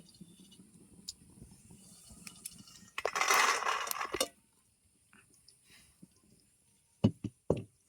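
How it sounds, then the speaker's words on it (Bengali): Roasted peanuts poured out of a wok, a brief burst of rattling nuts spilling out, followed by a few sharp knocks of the pan against a surface; fairly quiet and close, with no voices. "বাদামটা কিন্তু ভাজা হয়ে গেছে এবারে বাদামটাকে আমি ঢেলে নেব"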